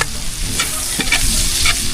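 Onion sautés in melted margarine in a pan, a loud close sizzle with brief stirring scrapes and crackles over two seconds.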